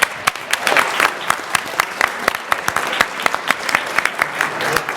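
An audience at a school committee meeting applauds loudly and continuously, a close, dense patter of many hands clapping with sharp individual claps throughout.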